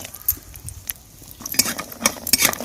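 Badi is stirred and fried in oil in a pan, with a metal spoon clinking and scraping against it in irregular close bursts over a faint sizzle.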